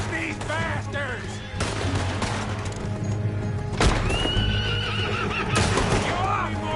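Horses neighing and whinnying in Red Dead Redemption 2, several calls rising over a dense, busy game soundscape with a steady low hum and bursts of gunfire-like booms.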